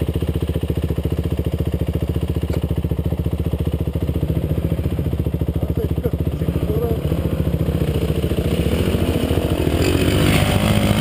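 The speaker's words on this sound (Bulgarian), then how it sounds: "Страхотен мотор, карай" A motorcycle engine thrums steadily up close with a rapid, even pulsing beat, holding loud throughout and swelling slightly toward the end.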